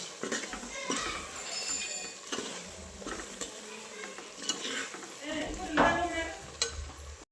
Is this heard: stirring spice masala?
yes